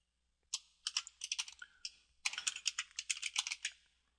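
Someone types a folder name on a computer keyboard in two quick bursts of crisp, close key clicks separated by a short pause, with no talking.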